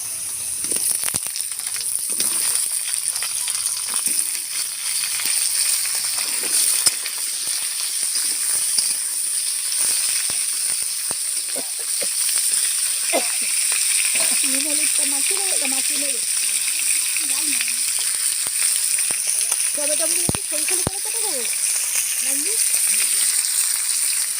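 Potatoes frying in a pan, cooked for a tangra fish and prawn curry: a steady loud sizzle and hiss runs throughout, with occasional utensil clinks and someone talking quietly underneath.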